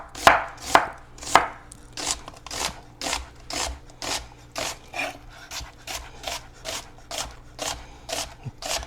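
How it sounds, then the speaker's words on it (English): A knife julienning halved onions on a cutting board, a fast, steady series of crisp chops close by, about fifteen strokes in a regular rhythm with no talk. "I like to cut them in half and then julienne them"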